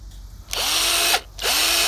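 A handheld power drill runs in two short bursts, each whining up to speed, holding briefly, then winding down. It is close and loud with no voices.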